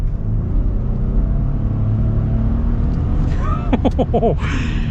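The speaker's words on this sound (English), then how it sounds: "Now this will be fun here with our acceleration." Ford F-150 pickup truck accelerating on the road, a loud steady engine rumble and cabin drone heard from inside, with a brief squeaky whine near the end.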